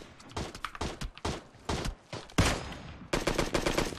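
Bursts of gunfire in the PUBG Mobile battle royale game, sharp repeated shots cracking in uneven clusters with a louder close volley midway and another rapid burst near the end, no voices over it.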